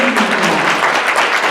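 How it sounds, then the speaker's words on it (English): A round of applause for Stephanie at a women's conference held by a Black chamber of commerce: a thick, even wash of clapping from a crowd, with no gaps. "So let's give her a round of applause"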